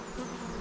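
Honeybees at a hive never treated for varroa mite hum in a steady, dense, close buzz that holds without a break from start to finish.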